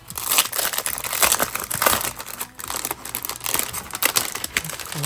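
Crinkly plastic and paper wrapping rustles and crumples continuously as packs of December planner stickers are torn open and handled close by, with a busy, irregular texture throughout.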